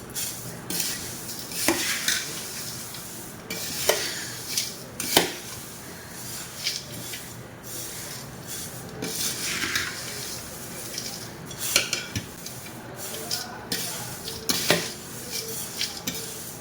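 Thin poha chivda tossed with spices in a pan, heard as repeated metal clinks and scrapes of a spoon against the pan among softer rustling of the dry flakes, close and steady with no talking.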